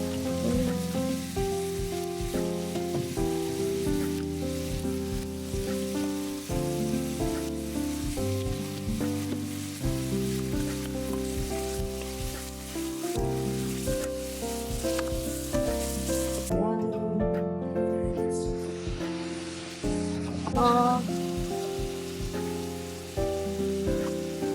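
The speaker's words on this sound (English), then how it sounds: "Saute the garlic until fragrant." Garlic sizzles steadily in melted butter in a frying pan, a constant crackling hiss with occasional stirring, heard beneath loud background music throughout.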